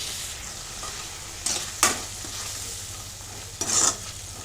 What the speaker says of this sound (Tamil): அந்தளவுக்கு நல்லா வேக விட்டு நல்லா ஃப்ரை பண்ணிக்கிறேங்க